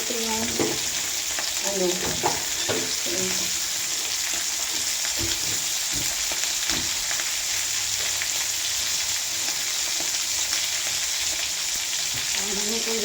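Eggplant frying with bagoong shrimp paste in a pan crackles and sizzles steadily up close, with a few scrapes and stirring knocks, and a brief word spoken.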